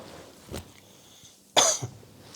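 A patient coughs during chest auscultation, first one soft cough and then a louder, sharper cough close by, with quiet room background between them.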